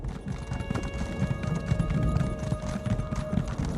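Horse hooves gallop in the video game Elder Scrolls Online, a steady rapid clip-clop rhythm running throughout under a constant game soundscape with a faint musical drone.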